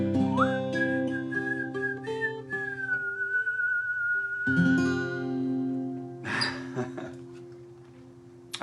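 A person whistles a song melody, a clear sustained tune held close and loud over steady background musical tones, with the whistled line carrying through most of the passage before fading.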